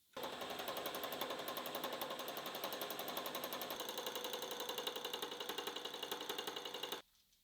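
A single tungsten carbide ball burnishing tool rides against a machined part, making a loud, rapid, even rattling buzz for about seven seconds before it cuts off abruptly.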